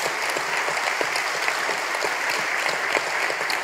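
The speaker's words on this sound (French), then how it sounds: "on peut applaudir nos intervenants" An audience applauds speakers at an automotive aftermarket conference, steady dense clapping from many hands filling the room at an even level throughout.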